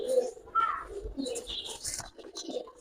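Giribaz high flyer racing pigeons coo close by in short, soft, broken calls, with a few chirps and a brief flutter of wings.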